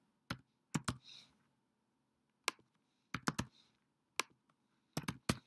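A name is typed on a computer keyboard in sharp, close clicks that come in short bursts of two or three keystrokes, with quiet pauses between groups.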